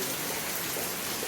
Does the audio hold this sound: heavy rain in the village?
yes